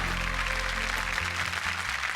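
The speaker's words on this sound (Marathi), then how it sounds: "जोरदार टाळ्या होऊन जाऊ दे" Studio audience at a Marathi television show applauding, a dense continuous wash of clapping with music playing underneath.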